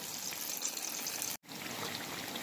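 Jamaican salt fish fritters frying in hot oil, a soft continuous sizzle and crackle heard close but fairly quiet, broken by a brief moment of silence midway.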